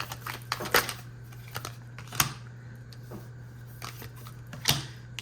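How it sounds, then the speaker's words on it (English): Tarot cards shuffled by hand in a quiet room, a few brief papery riffles and flicks spaced irregularly over a steady low hum, close and fairly soft. "Okay, let's shuffle."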